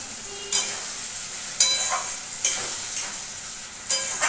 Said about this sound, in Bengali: দেখো মশলাটা এখন আমি ভালো করে কষিয়ে নেব।